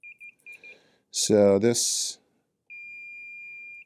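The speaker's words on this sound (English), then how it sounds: "Continuity beep." A multimeter gives a steady continuity beep while capacitors in a Wells-Gardner K4900 arcade monitor from a Williams Joust cabinet are checked; a few short beeps come first, someone speaks briefly, then one long, sustained tone.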